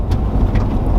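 Low, rumbling road noise from a car towing a trailer along a dirt road, steady and close with faint crunches on top.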